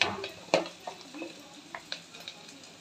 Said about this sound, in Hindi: अब हम इन सबको मिला देंगे और थोड़ा देर भूनने देंगे इसको